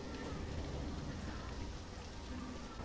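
Steady rain falling in a Left 4 Dead level, a dense even hiss that holds at a constant moderate level throughout with no other distinct events.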